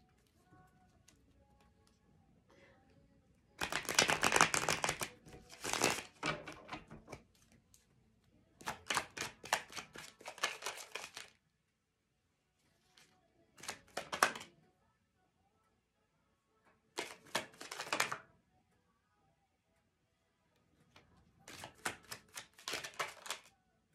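Vice Versa Tarot cards are shuffled in several separate bursts of quick riffling flutter, close and crisp, with quiet pauses between them.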